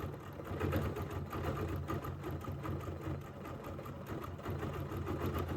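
A sewing machine runs steadily and close by, stitching over couching fiber with a continuous even whir and faint rhythmic needle pulses throughout, alone with no voices.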